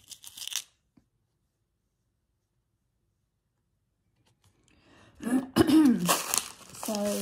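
A sharp throat-clearing burst up close, then a brief pause before a rough, rasping throat clear with a cough-like edge.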